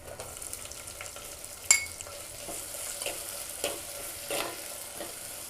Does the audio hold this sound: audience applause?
no